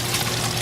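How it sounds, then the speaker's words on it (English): Water pours into a bucket at an eel-counting site in a short, steady rushing splash. The sound is loud and close, with no voices. "I put some water in my bucket."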